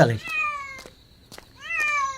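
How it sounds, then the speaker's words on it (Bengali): A cat gives two drawn-out, plaintive meows at night separated by a short pause, close by, with faint clicks in between, in a Bangla cartoon. "এত রাত্রে বিড়ালের কান্নার আওয়াজ কোথা থেকে আসছে"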